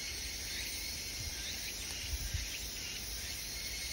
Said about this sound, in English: Just filled with crickets,